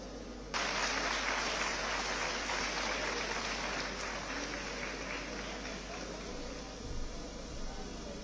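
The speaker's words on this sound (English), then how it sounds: "join me in welcoming Famina with a big round of applause" A convention-hall audience at an annual event at JRC Convention bursts into loud applause that starts abruptly and holds as a thick, sustained wash of clapping.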